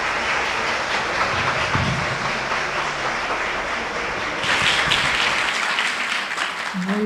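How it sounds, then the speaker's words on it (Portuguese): Sustained applause from a seminar audience on early childhood psychological development, a dense, even roar of many clapping hands that carries through the whole stretch and briefly swells louder partway through. "Calorosas palmas a Jesus, porque sua fala nos contagia, né?"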